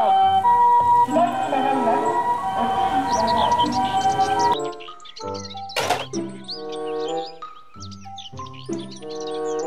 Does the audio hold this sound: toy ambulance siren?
yes